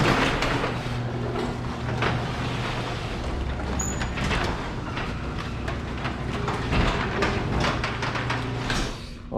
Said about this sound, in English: So I'm going to put the garage door down.